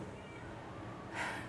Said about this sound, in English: But if you hear them, that's my cats.